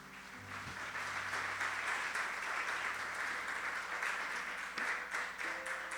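A church congregation breaks into sustained applause for the Lord, a broad, even roar of many hands clapping, heard at a distance and without talk.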